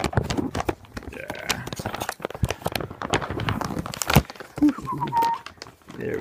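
A large Peanuts neighborhood fabric play mat being unfolded one-handed, giving repeated close crinkly, crumpling rustles in bursts with brief pauses and faint background noise.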